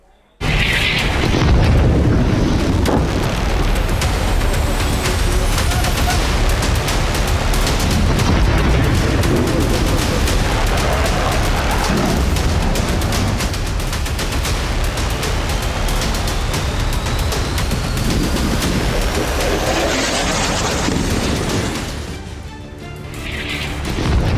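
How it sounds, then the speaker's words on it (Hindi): Israeli air force bombing of Houthi positions in Yemen, heard as a dense, continuous roar of loud booms and rumbling blasts that runs for over twenty seconds before easing slightly near the end. "इजराइल ने ये घातक बमबारी यमन में हूती विद्रोहियों के ठिकानों पर की है।"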